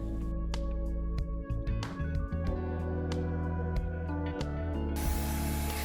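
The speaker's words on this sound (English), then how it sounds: "I started with my first round of primer and decided to use my spray gun" Spray gun applying oil-based primer onto a 1970s Ethan Allen desk, a steady hissing spray running nearly six seconds at moderate level with a few brief clicks and pauses, and a brighter burst of hiss near the end.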